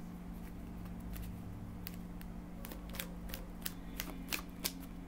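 Tarot cards being shuffled by hand, a run of soft riffling snaps and flicks that grows more frequent toward the end, heard close over a steady low hum.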